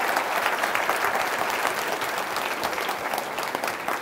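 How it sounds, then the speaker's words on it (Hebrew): Audience applause fills a hall at an Elul conference in Netanya, a dense, steady clapping that stays loud and even for the whole stretch without fading. "מחיאות כפיים קודם כל לכל הצדיקים והצדיקות שמרימים את היד"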